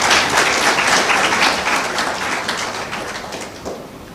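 Applause from an audience at a Yenepoya University education session, a broad steady wash of clapping that is loud at first and gradually thins and fades over about four seconds.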